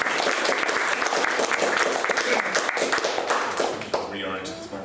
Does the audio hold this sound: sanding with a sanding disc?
no